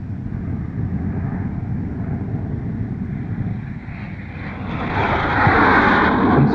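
A North American Aviation F-107 jet rolls down the runway on takeoff, its engine a steady loud roar that swells and brightens near the end, with no talking.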